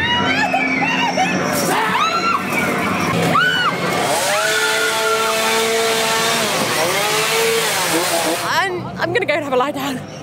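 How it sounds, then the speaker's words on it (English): A chainsaw revs at a horror attraction at Ultimate Street Car 2012 at Santa Pod Raceway, droning and whining near and loud for most of the stretch while people scream and shout over it. "chasing me with a chainsaw"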